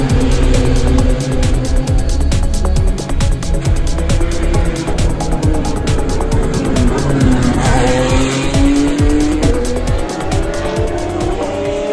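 Formula 3 race cars at the Spanish Grand Prix scream past with loud, high-revving engines, overlapping whines rising and falling as they go by, over a dense trackside roar.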